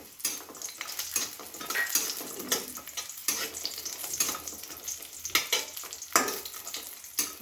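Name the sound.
bori lentil dumplings frying in a pan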